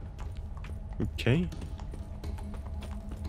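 Horse hooves clip-clop at a steady trot in The Witcher 3, with a brief whinny-like call partway through, all under someone talking over the game.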